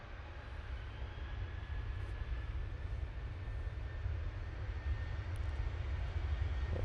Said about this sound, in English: this is the TUI off to Norwich